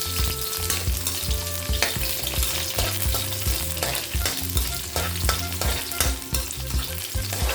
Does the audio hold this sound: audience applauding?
no